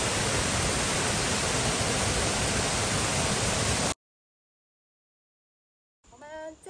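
Multi-tiered waterfalls beside a mountain road pour in a loud, even rush of white water for a few seconds, then cut to silence before a brief faint voice.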